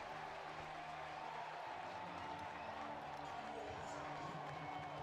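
Crowd at a college baseball game against LSU, runners on the corners in a tight late inning, a steady broad murmur and rumble of many fans filling the stadium, fairly faint and distant, with scattered claps and voices.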